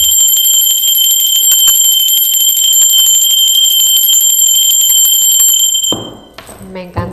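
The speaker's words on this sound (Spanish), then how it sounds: "Va campana, ¿sí? Va campana." A loud, sustained ringing bell with bright metallic overtones for about six seconds, then it stops and a voice begins speaking.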